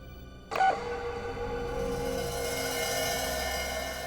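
An answering machine gives a single short electronic beep before recording, followed by a steady hum of line noise.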